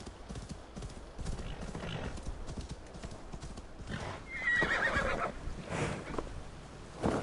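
A black horse in Assassin's Creed Valhalla clip-clops along with steady hoofbeats, then lets out a clear neigh partway through, all fairly quiet and close.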